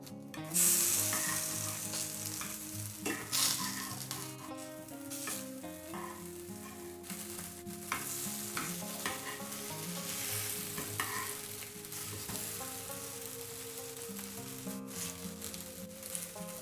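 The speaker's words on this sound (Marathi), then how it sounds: "आता इथे आपली खालची बाजू व्यवस्थित फ्राय झालेली आहे।" Pomfret-style fish fillets, Konkani-style halwa fry, sizzle steadily in oil in a pan over low gas, giving a continuous close crackling hiss with occasional spatters over a faint music bed.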